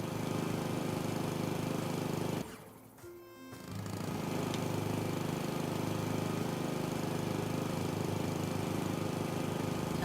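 Lawn mower engine in the video game House Flipper 2, a steady droning hum that cuts out briefly with clattering, then restarts and runs on evenly, with no talking.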